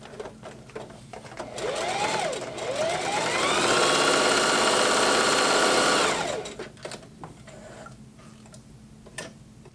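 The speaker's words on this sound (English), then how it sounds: "I'm just going to sew it with a regular straight stitch on my Singer Heavy Duty" A Singer Heavy Duty sewing machine runs a straight stitch through running-shirt fabric. Motor whines rise in two short starts, then settle into a steady, loud whirring run before winding down, with light clicks around it.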